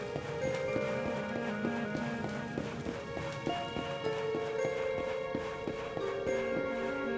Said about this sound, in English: The poor horses are frightened.